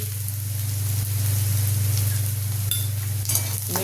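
Chopped onion sautés in a pan for garlic rava upma, a constant sizzle over a steady low hum, with a few sharp spoon clinks toward the end.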